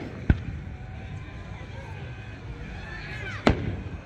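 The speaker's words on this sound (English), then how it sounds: "Let's check out a few fireworks for a little while." Fourth of July fireworks at a night-time modified car show go off as two sharp, loud bangs about three seconds apart, over a steady outdoor crowd murmur.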